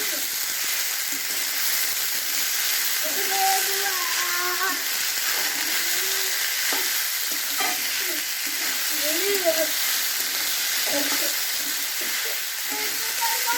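Drumstick flowers frying in a pan while being stirred, giving a steady, close sizzling hiss throughout with occasional scraping stirs and faint voices in the background.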